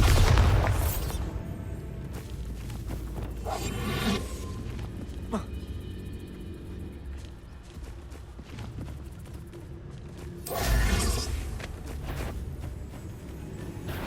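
The Bombarda blasting spell fires in the video game Hogwarts Legacy, with a heavy boom at the opening and a second loud blast near the end, separated by clattering debris and game ambience.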